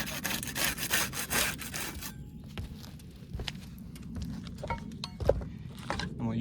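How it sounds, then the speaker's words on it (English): A putty knife scrapes and rasps across a roof shingle to break its seal, with quick close-up rubbing strokes at first, then scattered scuffs, taps and one sharper knock. "We use the putty knife to unseal the top shingle."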